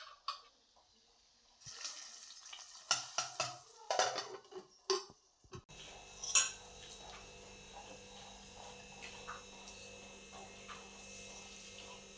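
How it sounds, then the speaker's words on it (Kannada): Cashews and raisins frying in ghee, with a few clinks and scrapes of a utensil against the pan, then a steady soft sizzle with a low hum underneath, quiet and close. "ನಾನು ಗೋಡಂಬಿ ದ್ರಾಕ್ಷಿ ಈಗ ತುಪ್ಪದಲ್ಲಿ ಹುರಿದು ಹಾಕ್ತೇನೆ"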